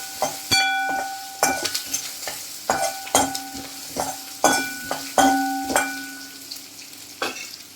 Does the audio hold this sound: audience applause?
no